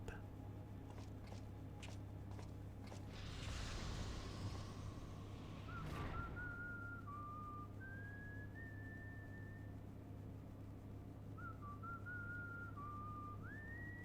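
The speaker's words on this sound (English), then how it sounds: "he's whistling" A character in Final Fantasy XIV whistles a melody in short rising and falling phrases over a steady ambient hum, with a brief rushing swell in the middle and a pause before the tune resumes.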